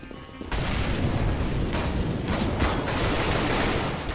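Auto sniper rifle fire in CS:GO, a dense, loud, continuous barrage of rapid shots that starts abruptly and keeps roaring for several seconds.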